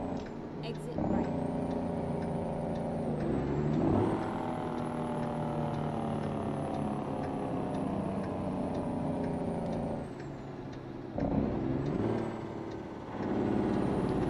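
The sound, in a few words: truck Jake brake engine braking in American Truck Simulator video game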